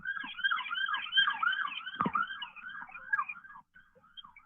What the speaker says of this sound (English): hold on, the sirens, I'm sorry.